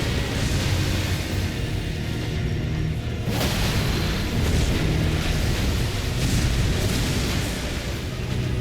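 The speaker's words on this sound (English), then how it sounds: "the attack and then the follow-up lightning explosion afterwards" A boss's lightning explosion attack in Elden Ring, a dense roaring burst that swells into a sustained rumbling crackle and holds loud throughout.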